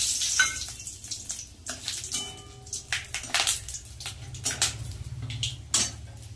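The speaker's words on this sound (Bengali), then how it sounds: "তেলের মধ্যে দিয়ে দেবো গোটা গরম মশলা, তেজপাতা, শুকনো লঙ্কা।" Whole garam masala, bay leaf and dried chillies sizzle as they go into hot oil in a pan, mixed with sharp clinks and scrapes of metal utensils against cookware, close by.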